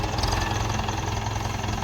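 A tractor engine runs steadily at night during wheat sowing, a close, continuous low rumble with a slight knocking pulse and no voices.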